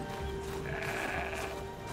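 A goat in the Horizon Zero Dawn video game gives a single drawn-out bleat, heard up close over a steady background ambience.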